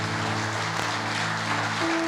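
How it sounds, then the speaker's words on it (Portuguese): A church congregation claps in a steady burst of applause over a sustained organ or keyboard chord, with no talk. "Aplauda Ele bem forte."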